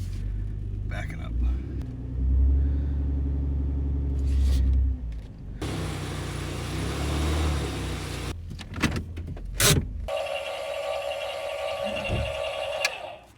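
Truck backing up to hitch a trailer on a cold day, a low engine rumble rising and falling with throttle, punctuated by clunks and a brief high whine near the end, with someone talking over it.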